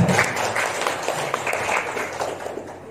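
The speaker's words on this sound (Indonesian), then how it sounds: "Tepuk tangan untuk SMP 3 sekarang." An audience at a school gathering applauds for the SMP 3 group, a steady wash of clapping throughout.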